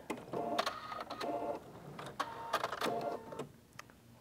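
Sewing machine stitching fabric right off the edge at a short 1.0 stitch length, a quiet rapid mechanical chatter in several short bursts with brief pauses.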